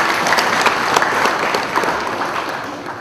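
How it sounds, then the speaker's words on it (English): Mourners at a funeral service in a church break into sustained applause, a dense wash of many hands clapping steadily and fairly loud throughout, with faint crowd murmur beneath. "Let's clap for Asiimwe."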